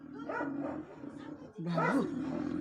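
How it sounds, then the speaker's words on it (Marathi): A dog barks and growls in a tense scuffle with a leopard, with excited human voices shouting over it. "कुत्र्यानं बिबट्यावरती हल्ला केलाय"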